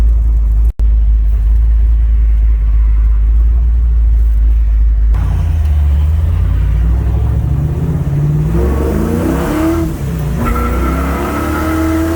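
A carbureted Chevy Nova, swapped over from EFI, drives past with a loud steady engine rumble that rises into revving acceleration partway through, close and continuous with no talk.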